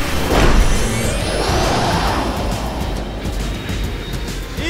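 A loud cartoon airplane roars past with a rushing whoosh that rises and then fades into a steady rumble.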